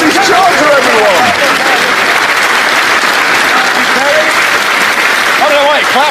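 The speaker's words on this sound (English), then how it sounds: "I don't know why you're clapping" A studio audience claps loudly and continuously, a thick wall of applause with cheering, while a voice calls out over it at the start and end.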